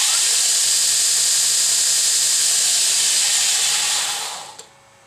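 A DSM grinder driven by a VFD set to 2,700 RPM max whines with a loud, steady hiss, then quickly winds down and falls quiet near the end, leaving a faint low hum.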